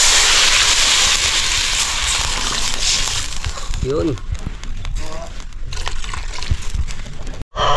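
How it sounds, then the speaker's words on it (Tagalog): Water poured into a hot cooking pan over an outdoor fire for a fish catch-and-cook dish, hissing and crackling loudly with sloshing and bubbling, while someone speaks briefly. "Lagyan na po natin ng tubig mga kaibigan."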